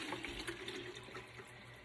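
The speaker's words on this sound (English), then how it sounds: "I'm just filling up my water can." A watering can filling under a running tap indoors beside a grow tent, a steady close splashing hiss of water that stays even for the whole short stretch with no voices.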